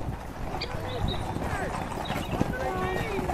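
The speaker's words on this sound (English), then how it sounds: "Mares with their foals." Thoroughbred mares and foals clip-clop steadily on a hard surface in Tipperary, Ireland, mixed with a busy outdoor background and voices murmuring.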